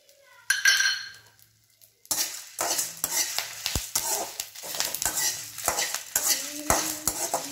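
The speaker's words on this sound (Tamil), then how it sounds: "மீடியம் ஃப்ளேமில் வச்சு வறுத்துக்கோங்க, இல்லைன்னா கறிகிரும்." Coriander seeds, dried chillies and curry leaves roast in oil in a pan over medium flame while a spoon stirs and scrapes, giving crackling sizzles and sharp metallic clinks close by.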